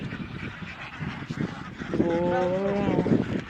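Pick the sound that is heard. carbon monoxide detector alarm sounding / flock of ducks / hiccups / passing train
flock of ducks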